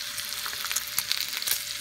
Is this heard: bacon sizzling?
yes